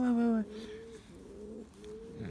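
Soft, low pigeon coos rise and fall in a short sequence, fairly close, with faint background murmur.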